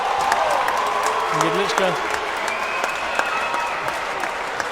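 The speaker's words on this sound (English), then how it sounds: "That cheering you're hearing is the GB crowd, happy that their men's team is scoring some points against Dodgeball Canada" GB crowd cheering and clapping at a British Dodgeball Atlantic Cup match, a steady wash of applause and crowd noise filling an indoor hall, with a commentator talking over it.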